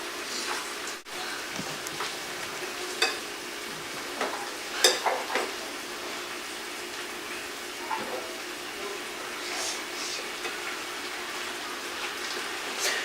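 Steaks sear in a hot frying pan, giving off a steady soft sizzle with a few sharper crackles and pops, close up and heard alone.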